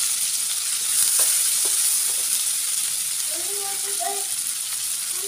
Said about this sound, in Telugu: ఆ ఉల్లిపాయ ముక్కలు అయితే వేసుకోవాలి.